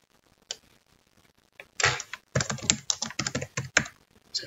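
Typing on a computer keyboard comes in a short burst of clicks, then a denser, uneven run of keystrokes, fairly close and distinct with no talk over it.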